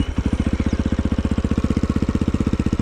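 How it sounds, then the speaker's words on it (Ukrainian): A 2024 KOVI JNR 250 enduro motorcycle idles with its exhaust silencer fitted, giving a steady, close, evenly pulsing putter with no talk over it. "І давайте вихлопу той ми послухаємо."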